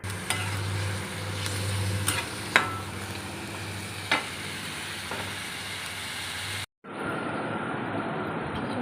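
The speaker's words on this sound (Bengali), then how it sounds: "এর জন্য আমি কিছু বেরেস্তা করে নিচ্ছি পেঁয়াজ দিয়ে" Sliced onions fry in white oil for a beresta garnish, giving a constant sizzle broken by scattered scraping and stirring clicks. The sound cuts out briefly near the end, then the sizzle resumes.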